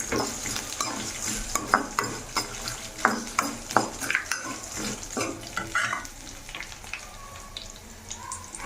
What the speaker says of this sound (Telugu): ధనియాలు కూడా కొన్ని వేసుకొని ఇలా బాగా మిక్స్ మిక్స్ అని కలుపుకోవాలి